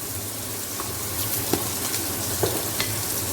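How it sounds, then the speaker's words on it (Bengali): Onion and sausage gently sautéing in a pan, a steady soft sizzle with occasional light clinks of a utensil stirring, close and continuous with no talking. "হালকা সতে করে নেব।"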